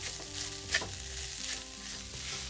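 Fennel seeds and curry leaves dry-roast in a pan, giving a soft continuous crackle and hiss with a brief louder scrape of stirring midway, faint and close.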